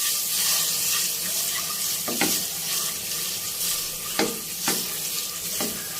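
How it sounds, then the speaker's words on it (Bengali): Six eggs fry in oil seasoned with turmeric, salt and chilli powder, hissing loudly and steadily up close, with a few brief knocks and scrapes as they are turned. "এখন ছয়টা ডিম নিয়ে নিয়েছি আর ডিমগুলো আমি ভেজে নিচ্ছি"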